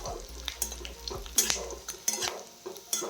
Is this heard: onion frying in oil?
yes